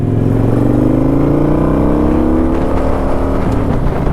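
Kawasaki Vulcan 900 motorcycle engine and exhaust running loud and close, a steady deep rumble whose pitch rises gradually as the revs climb, with no voices over it.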